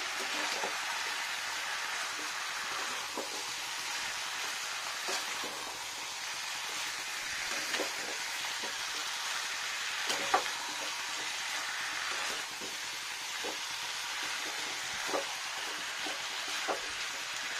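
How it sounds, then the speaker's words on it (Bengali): Spiced food frying in a pan makes a continuous, moderately loud sizzling hiss, with occasional faint stirring clicks and scrapes scattered throughout and no voices. "ঝেড়ে কষে নেবো।"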